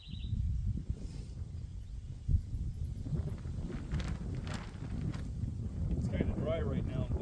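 Wind gusts buffet the microphone over a dry farm garden, a steady low rumbling roar with occasional stronger bursts, while faint rustling and a distant voice sit underneath.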